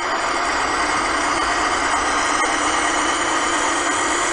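Blue Bird school bus engine in the Rigs of Rods driving simulator, held in first gear while climbing a hill: a steady, continuous loud drone that stays even throughout, with no talking.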